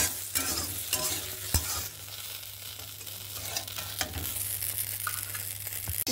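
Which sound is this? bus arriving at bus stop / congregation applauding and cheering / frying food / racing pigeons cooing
frying food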